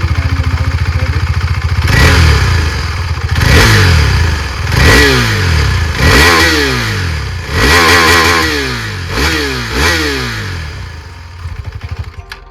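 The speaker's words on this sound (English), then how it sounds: "now let's rev it" A KTM Adventure 390 single-cylinder motorcycle, loud and close, is revved about six times in a row, each blip rising and falling back to idle before the engine cuts off at the end.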